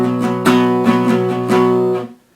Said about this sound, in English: So it's going to be down, down, up, down, up.